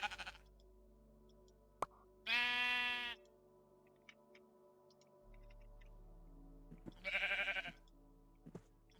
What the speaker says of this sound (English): a sheep spawn egg